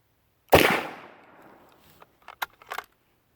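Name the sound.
gunshot from an M43 Mauser .308 rifle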